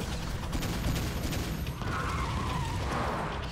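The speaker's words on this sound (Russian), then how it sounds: "Импульсная пушка!" A cartoon pulse cannon fires as a dense, sustained burst of crackling energy blasts layered over rumbling effects, loud and continuous, with a rising whine partway through.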